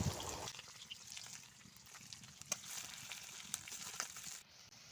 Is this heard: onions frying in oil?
yes